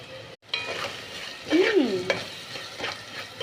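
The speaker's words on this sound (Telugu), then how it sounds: "ఇప్పుడు మనం నూరు పెట్టుకున్న అల్లం వెల్లిపాయ కొబ్బరి పేస్ట్ వేసేద్దాం." Ginger, garlic and coconut paste frying with browned onions for a country chicken and drumstick curry, a dense close sizzle with a brief gap, then stirring scrapes and a squeaky spatula drag against the pan.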